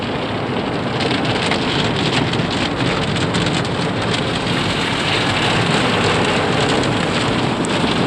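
Inside a car going through a car wash, water sprays over the car in a loud, dense, continuous hiss and drumming like heavy rain, steady throughout with no speech.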